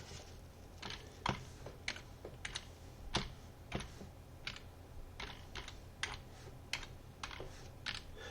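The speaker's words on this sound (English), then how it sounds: "Type in the web code." Quiet keystrokes on a computer keyboard entering a web code on a crossword creator login page, a steady run of light clicks with irregular spacing and no talk.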